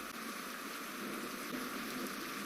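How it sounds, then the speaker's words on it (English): Rain hisses steadily and faintly throughout a WW2 hex-board war video game, an even, soft wash with no distinct drops standing out and no voices. "now it's raining. Bad weather."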